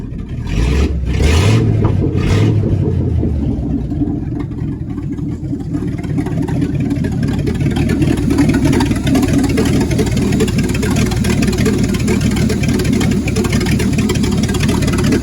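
An old pickup truck, left rotting for 26 years, runs with its fan on and its carburetor needing adjustment. The engine idles loud and steady throughout, with a few uneven revs at the start.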